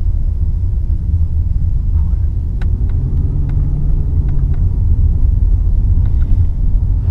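A deep, steady BMW V8 engine rumble from inside a moving car, low and throaty, with a few faint clicks and no voices.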